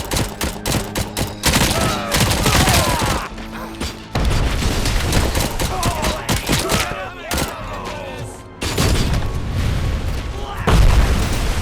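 Dense bursts of gunfire and heavy booms from the RoboCop: Rogue City video game repeat through the whole stretch, loud and close, broken by short pauses, with someone talking now and then.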